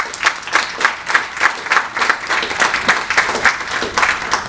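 A conference audience claps for a presenter in steady, full applause that fills the room and holds evenly from start to finish.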